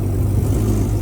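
A Jeep being driven, its engine giving a steady, loud, low rumble throughout with a slight rev in the mix.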